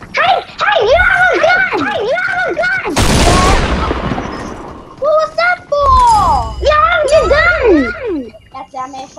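Gunfire from a gun in the video game Fortnite bursts out as a loud, dense volley that decays over about a second, surrounded by excited, high-pitched voices talking and shouting before and after.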